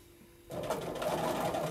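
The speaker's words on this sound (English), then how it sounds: "I do have a stitch regulator on my machine, which is why I press a stop and start button when I'm stopping and starting my quilting" A sewing machine with a stitch regulator starts up and runs steadily for free motion maze quilting, a close, even whir that sets in after a brief quiet moment.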